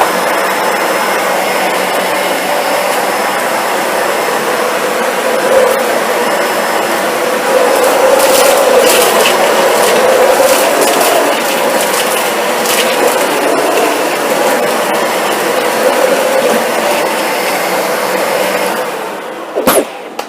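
A Dyson vacuum cleaner runs steadily and loudly, sucking up Fruit Loops cereal, its broadband whine holding for about twenty seconds with brief surges and small rattles as pieces are drawn in, then cutting off at the end.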